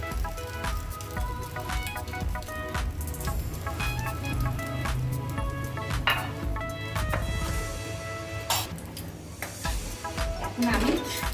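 French toast of egg-dipped bread with green chili frying in oil in a pan, a busy crackling sizzle with scattered pops and utensil clicks running continuously at close range, without talk.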